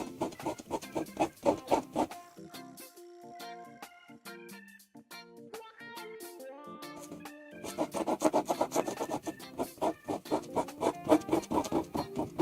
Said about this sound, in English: it like sounds scratchy when I do it. That's why I call it the scratchy brush.